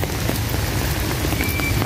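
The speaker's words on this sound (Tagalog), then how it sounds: "sobrang lakas, malakas ang ulan" Loud, heavy rain pours down continuously on an outdoor children's playground at Quezon City Memorial Circle, a dense close hiss of drops hitting surfaces with no pauses.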